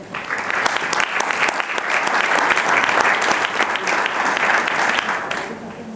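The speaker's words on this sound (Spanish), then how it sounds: "Lo recibimos también con un aplauso." Sustained audience applause at an Argentine renewable-energy talk welcomes the president of the Cámara Argentina de Energías Renovables to the stage. Dense, steady clapping from a crowd runs the whole time and fades slightly at the end.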